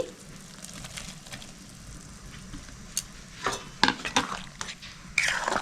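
Ingredients go into a pot of homemade chicken soup and get stirred, with soft scraping and clinking of a spoon against the pot over a low simmering hiss, growing busier toward the end.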